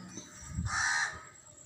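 A crow gives one harsh, drawn-out caw close by. It is loud and clear over a quiet background, with no other sounds around it.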